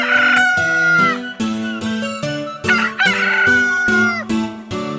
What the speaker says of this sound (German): Rooster kräht früh, da ist's noch duster.